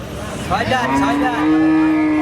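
A cow gives a long, loud, close moo that rises and holds steady to the end.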